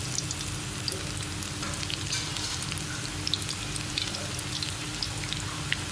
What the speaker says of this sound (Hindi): ऑयल हमारा गरम हो चुका है, इसमें मैं पकौड़े बनाना स्टार्ट करूँगी।